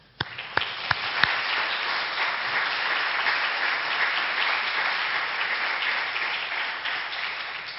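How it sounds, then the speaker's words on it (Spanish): An audience gives a warm round of applause to welcome a speaker at a talk. A few sharp early claps lead into a steady, sustained wash of clapping. "les invito a todos a recibirle con un caluroso aplauso"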